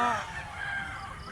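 Roosters and chickens crow and cluck together at a crowded fowl gathering in Mantalongon, Barili, Cebu, where yellow-legged birds are kept. A loud crow opens, with more calls overlapping in a steady farmyard din.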